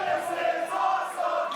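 A wrestling crowd in Mississauga chants in unison during a women's TNA Knockouts match. The rhythmic, swelling chorus of many voices rises and falls in a steady beat, distant and reverberant, with no close voice.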